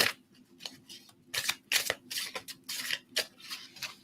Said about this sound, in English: I'm just going to shuffle this.